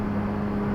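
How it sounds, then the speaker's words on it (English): A Porsche GT3 engine heard from close by, a loud, steady, droning note with a strong low hum that holds level for under a second, with no one talking. "Listen to that rev match."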